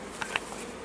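Honey bees buzz around an open beehive being prepared for amalgamation, a steady faint hum with a couple of brief louder passes as individual bees fly close.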